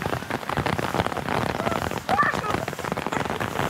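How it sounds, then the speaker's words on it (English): Heavy rain pours in a dense, continuous hiss and patter close by, steady throughout the short stretch, with faint voices mixed in. "Well, we almost beat the rain."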